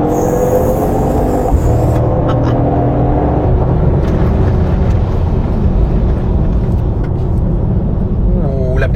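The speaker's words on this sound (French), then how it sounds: "on entend un souffle derrière à l'accélération" A 2024 Mercedes-AMG GT 63 Coupe accelerates hard, a loud steady engine roar with an airy whoosh behind it inside the cabin, as someone talks over it.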